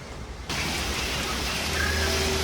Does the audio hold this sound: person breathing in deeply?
no